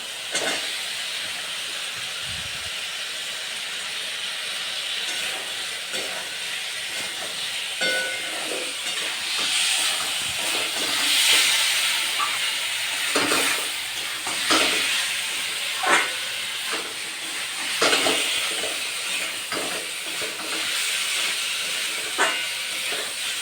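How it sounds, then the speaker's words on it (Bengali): Pointed gourd and potatoes tipped into spice paste frying in a pan, giving a steady loud hiss and sizzle with scattered clinks and stirring scrapes throughout. "মশলাটা আমার পচানো হয়ে গেছে এবার পটলগুলো দিয়ে দেবো আর আলুগুলোও দিয়ে দেবো"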